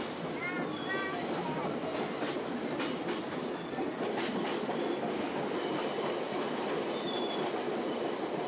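Train riding the rails through Toyama and Gunma in Japan, with a continuous rumbling roll, rhythmic clickety-clack from the wheels and brief high squeals, heard steadily from inside the carriage.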